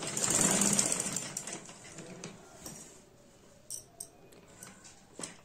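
A sewing machine stitches a gota patti border onto a lehenga, one close run of fast whirring stitches at the start that fades out, followed by faint scattered clicks.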